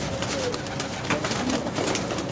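Male pigeons coo in their enclosure section, low soft calls repeating under a constant wash of background noise.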